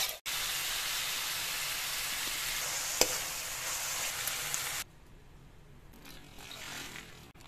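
Sotanghon noodle dish cooking in a hot pan, a loud steady sizzle with faint stirring for several seconds before it suddenly drops to a quiet, softer background hiss.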